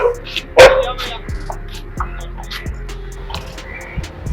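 Dogs bark in a Hindi short film: one loud, close bark stands out early, followed by several quieter, scattered barks and yips spaced across the moment.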